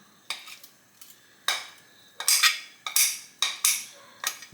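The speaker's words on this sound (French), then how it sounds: "Je vais couper ma feta en bout comme ça." A knife chops feta cheese into rough chunks on a board, giving about eight sharp, close clicks and taps in an irregular rhythm in a quiet kitchen.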